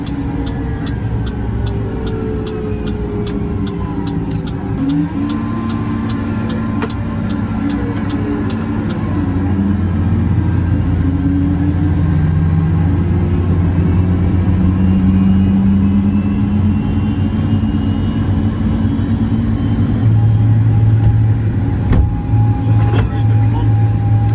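A Case Puma 165 CVX tractor with a CVX gearbox drives along a road, its engine a steady low drone heard from inside the cab that swells slightly partway through, while someone talks over it throughout.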